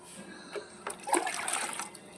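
Water splashes and gushes onto a mossy courtyard floor, rising into a steady wash for a couple of seconds.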